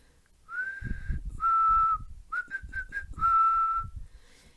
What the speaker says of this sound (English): Do you know how to whistle?